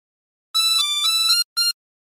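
A short phrase of Bella Ciao played on a 24-hole tremolo harmonica: a few bright, reedy sustained notes in quick succession, a brief pause, then one short final note, close and solo.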